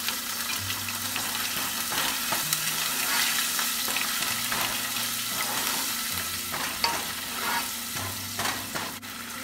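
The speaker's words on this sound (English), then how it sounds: "we'll saute this until the raw flavor of ginger paste and garlic paste is gone" Ginger paste and garlic paste sautéing in a pan for methi paneer bhurji, a steady close sizzle with occasional stirring scrapes throughout.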